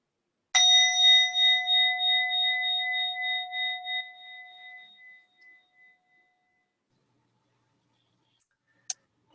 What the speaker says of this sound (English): Now I'll ring the bell again and we'll come to a conclusion.